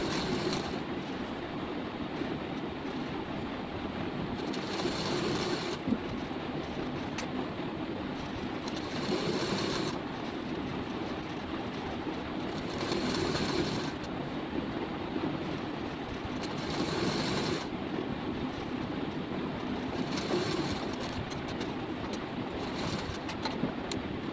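Sewing machine stitching a folded saree hem, a steady motorized whir running nonstop for about twenty seconds with slight rhythmic surges, close and fairly loud, no talking.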